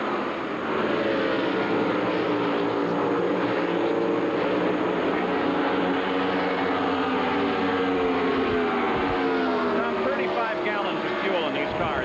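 IndyCar race cars with methanol-fuelled engines at full throttle through turns two and three at Walt Disney World, a loud continuous high engine roar with rising and falling pitch as cars pass, under a commentator's voice.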